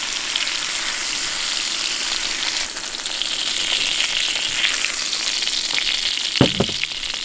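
Garlic fries in a wok with a loud, continuous sizzle that holds steady from start to finish, broken near the end by a brief clunk of a utensil.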